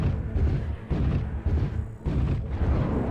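Missile explosions in MechWarrior Online thud and rumble in heavy, overlapping bursts, with a low booming roar sustained throughout and brief dips between blasts.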